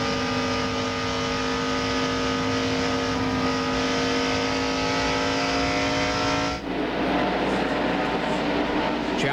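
Stock cars roar around Darlington in a 1998 Busch Grand National race, a loud sustained engine drone with rising harmonics that shifts abruptly as a car passes, with an announcer's commentary audible beneath.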